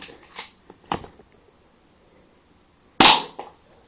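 A Colt M1911-A1 spring airsoft pistol fires its last BB with one loud, sharp snap that decays quickly, preceded by a few faint mechanical clicks and handling noises in near silence.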